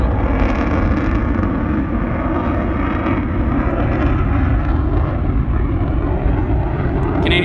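A jet roars loud and continuous at an air show in New York, part of an F-35A heritage flight, with a broad steady rumble filling the whole stretch.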